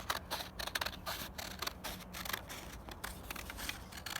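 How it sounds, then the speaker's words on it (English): Scissors cutting paper to make a party hat, a quick run of close, crisp snipping and rustling clicks that repeats steadily throughout. "So you're going to cut out with your scissors."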